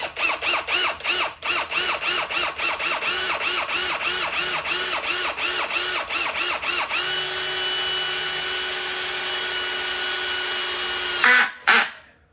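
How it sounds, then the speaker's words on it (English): A power drill whirs in short stuttering bursts while drilling a small pilot hole during a Nuetech Prolock 360 install, briefly struggling, then runs in one steady whine before stopping with a couple of clunks at the end. "This is just a little pilot drill bit hole."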